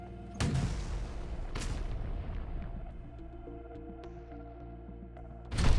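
A missile launched at a Russian tank in a Kharkiv combat scene, with a sharp blast, a second boom and rumbling aftermath, then another loud explosion at the end. No talking.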